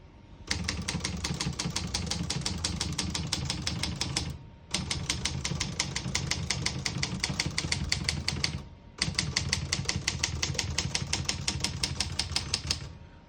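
A 1966 Olivetti Underwood 21 portable typewriter types in three fast, even runs of sharp, close key strikes, each run ending in a short pause, with no talking.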